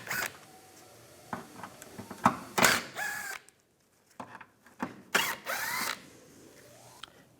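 A ratchet with a T30 socket backs out front bumper screws on a 2015-2019 Lincoln MKC, giving quick bursts of clicking, zipping turns broken by short pauses, fairly close and moderately loud, with no talking.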